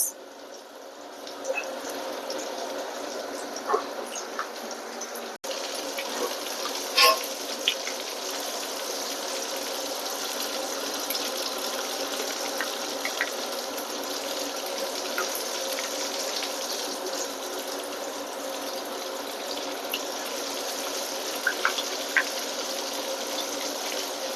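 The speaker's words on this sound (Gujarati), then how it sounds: "જો આપણા વડા તરાય છે" Batata vada, potato fritters, deep-fry in hot oil with a steady, close sizzle and bubbling that runs unbroken for over twenty seconds, with a few sharp pops now and then.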